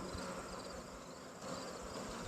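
Honey bees buzzing inside an open hive during an inspection, including drones among female workers, a dense continuous hum close by with no talk.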